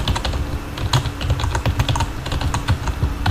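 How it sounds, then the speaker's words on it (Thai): Steady, fast typing on a cheap rubber-dome computer keyboard, with dense soft key clatter and no speech, close to the microphone. "ต้องการคีย์บอร์ดอันนี้ คีย์บอร์ดผมโคตรกากดูฟังเสียง"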